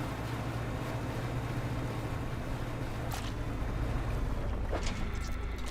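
Boat engine in the fishing video game Dredge, a steady low droning hum that runs unbroken at moderate level, with faint washy water and wind texture on top.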